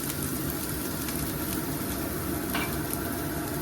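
Crushed ginger and garlic sizzling in a little hot oil, a steady close hiss and crackle with faint stirring and one brief scrape, without any talking.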